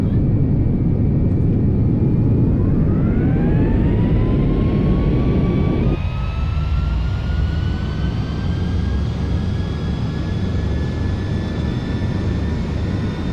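Airliner jet engines spool up in Microsoft Flight Simulator X (FSX), a loud continuous roar with a rising whine that climbs and steadies as the takeoff roll builds, unbroken throughout.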